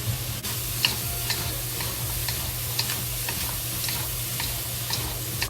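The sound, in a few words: stir-frying ham with celery in a wok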